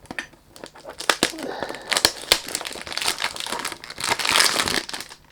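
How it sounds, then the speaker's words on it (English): Cardboard and plastic wrapping of a perfume box crinkling and tearing as it is unboxed, close and busy with sharp rustles and scrapes throughout, no voices. "Sorry about the unboxing and the noise."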